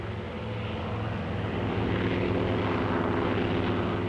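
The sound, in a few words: WWII warplanes returning from a mission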